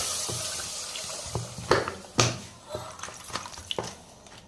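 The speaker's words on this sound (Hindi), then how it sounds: "तो अब हम इसमें डालेंगे 1 लीटर दूध" Milk, a full litre, poured into a cooking pan while making sweet vermicelli (sawiyan), heard as a soft steady liquid pour marked by a few sharp clinks and knocks of the container against the pan.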